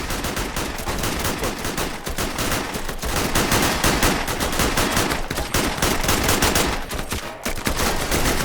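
Dense, continuous gunfire from a video game roleplay siege, with overlapping rapid bursts and machine-gun fire filling the whole stretch at a steady loud level with no talk.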